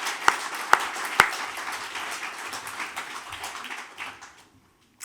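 Audience applause closing a discussion event on dementia and discrimination, a steady patter of many hands with a few sharp louder claps early on, fading out toward the end.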